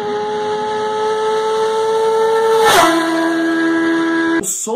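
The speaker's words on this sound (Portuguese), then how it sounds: "para você acompanhar o som dessa moto." A Kawasaki Z750 motorcycle engine screams at high revs with sharp harmonic tones, shifting pitch abruptly midway, then a sudden bright change near the end.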